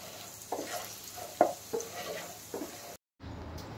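Potatoes for a paneer curry fry in a pan with a soft, steady sizzle, punctuated by a few distinct clinks and scrapes of stirring. The sound is close but fairly quiet, cuts out briefly near the end, and carries no speech.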